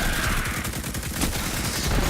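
Rapid, sustained automatic fire from an auto rifle with an enlarged magazine in Destiny 2, a loud dense stream of shots filling the whole stretch without pause.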